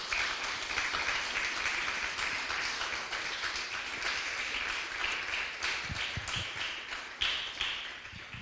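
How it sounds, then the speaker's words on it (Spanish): A church congregation claps loudly, a dense wash of applause with some sharper individual claps and taps standing out near the end. "Denle un fuerte aplauso al Señor,"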